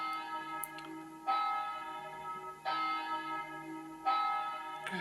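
Church bell peals from a Verdin 720 digital carillon, with three evenly spaced strikes whose bright harmonic tones ring and decay between hits, clear and close with nothing else heard.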